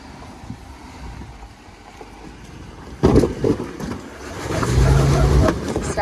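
Off-road vehicle tire pushing rocks aside on a difficult trail: low rumbling engine and crunching grind swelling louder in the second half, with wind buffeting the microphone.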